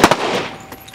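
A single sharp pistol shot cracks on a training range, followed at once by a quick second report and a fading echo.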